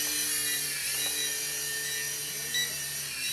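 A small UDI RC U12S WiFi FPV toy helicopter hovering indoors, a steady high-pitched whine of its rotors and motor holding close and even, with no talk.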